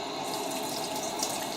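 Cold tap water runs steadily over a peeled potato in a sink, a close, continuous splashing hiss with no talk.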